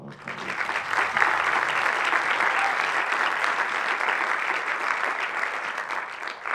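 An audience at a casting talk breaks into sustained applause, a dense, even roar of many hands clapping that holds steady for several seconds before easing slightly at the end.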